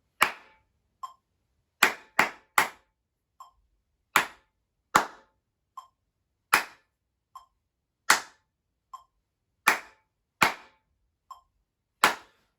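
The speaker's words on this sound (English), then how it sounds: "Let's just count and clap now. Just clap, no counting" A group of students in a music lesson clap together in rhythm, sharp crisp claps landing in steady pairs and groups with short rests between, close and clear with no talking.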